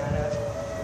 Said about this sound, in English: they shut off the tornado sirens, and then they came back on again